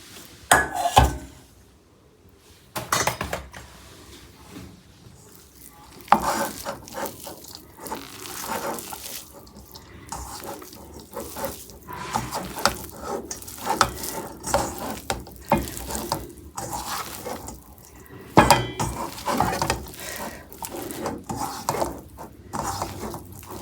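Grated coconut is mixed by hand into steamed spinach puttu, and the close, irregular rustling and stirring comes with occasional taps and clinks of a vessel, with no talk.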